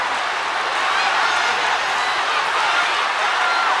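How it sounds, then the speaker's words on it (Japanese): A packed wrestling arena crowd roars during a women's tag team championship bout, an unbroken loud wash of cheering and scattered clapping close up throughout. "いやーすごい大歓声。"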